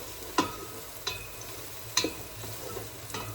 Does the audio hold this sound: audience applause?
no